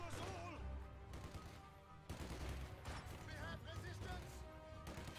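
Machine gun fire in the strategy video game Company of Heroes 2, bursts of rapid shots mixed with other battle crashes at low level, with a voice talking over the game sounds.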